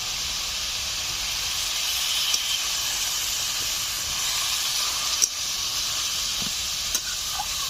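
A little water poured into a hot pan with a katla fish head on a village cookstove gives a continuous, loud hissing sizzle that stays even throughout, with a few tiny crackles.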